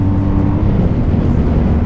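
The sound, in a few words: BMW 1250GS motorcycle riding at 100 km/h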